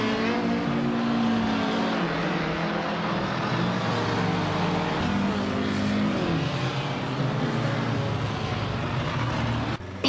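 A 1961 Alfa Romeo Giulietta Sprint races in a video game, its engine holding a steady, loud drone throughout, with other cars droning alongside and no pauses.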